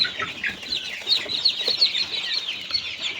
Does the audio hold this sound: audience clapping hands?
no